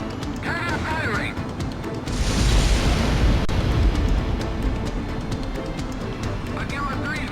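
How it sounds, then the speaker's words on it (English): A booming cannon blast from Ace Combat X's shot cannon erupts midway, a loud broadband explosion with rumbling low end over steady game noise and jet roar, sustained for about two seconds before settling back under radio chatter. "Cannon firing."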